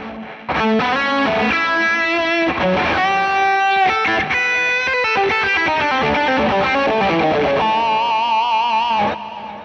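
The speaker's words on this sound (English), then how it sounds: "Let's just stick a bit of a delay on for the lead tones" An electric guitar plays a distorted lead through a Fractal Carol Ann Tucana amp model with digital stereo delay, giving sustained bending notes and fast runs with echo tails. It is loud and alone, then stops abruptly near the end.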